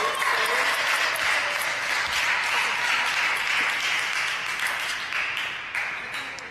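An audience applauds at the 2017 US National Team Trials table tennis semifinals, a steady wash of many hands clapping at moderate distance that tapers slightly toward the end.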